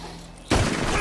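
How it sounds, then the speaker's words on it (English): A single loud gunshot in the western video game Red Dead Redemption 2 bursts in halfway through, after a quiet stretch, with a full, booming report that rings out to the end. "You shot me pretty good."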